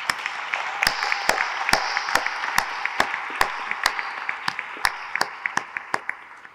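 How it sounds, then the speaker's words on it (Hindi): A small group claps steadily for several seconds, with a few louder individual claps standing out in a fairly even rhythm that fades slightly toward the end. "यार 800 करोड़ के हिसाब से तालियां तो बजनी चाहिए।"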